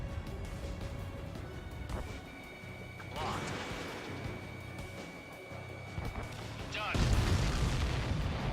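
APCs exploding in the video game Ace Combat 7: several deep booms, each followed by a crackling rumble over steady jet engine drone, with a louder blast near the end and a voice talking.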